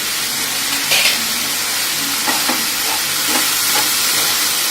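Potatoes sautéing for aloo curry with salt, turmeric and a little sugar, a loud steady sizzle and hiss with occasional soft scrapes of stirring, no speech.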